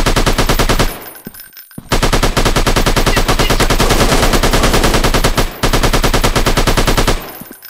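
Sustained automatic gunfire from an army mission shooter game on Android, loud rapid bursts filling most of the stretch with two brief pauses between volleys.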